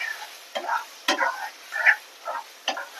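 A spoon stirs garlic pickle as the garlic cooks in a pan, giving about six short scraping, sizzling bursts in an uneven rhythm, close and fairly quiet, with no talking.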